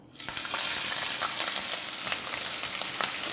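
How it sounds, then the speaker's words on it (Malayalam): Sliced onions dropped into hot oil in a pan for chicken curry, erupting into a loud, bright sizzle that holds steady, with a few light stirring scrapes underneath. "ഇത് ഞാൻ ഒരു പാൻ അടുപ്പി വെച്ച് എണ്ണ തിളച്ചിട്ടുണ്ട്. അതിലോട്ട് നമുക്ക് ഈ സവാള ഇടാം"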